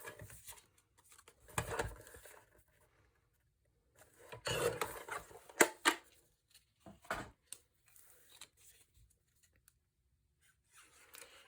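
Paper border strip from a 12 by 12 sheet being cut into pieces, heard as short close scraping and snipping bursts separated by quiet gaps.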